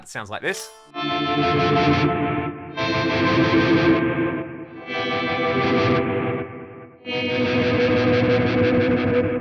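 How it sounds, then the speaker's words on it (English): Electric guitar run through a Fractal AX8 phaser set to swirl on top of delay, loud sustained chords in four long phrases that sweep and wobble, after a brief spoken line. "I've got a phaser doing some swirly stuff on top of all of that."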